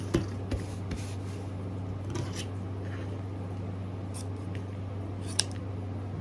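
Scissors cut ribbon a few times over a steady low hum, with brief sharp cutting clicks scattered through the quiet room.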